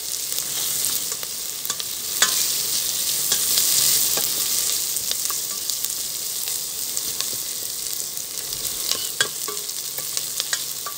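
Onions sautéing in a pan for chicken tinola, a continuous close sizzle layered with frequent scraping stirs and soft clicks of the utensil, steady throughout with no voices.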